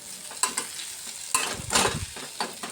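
Potatoes fry in a pan while a spoon stirs through them, making a soft steady sizzle broken by several scraping, clattering stirs, the loudest burst near the middle, close and with no talk.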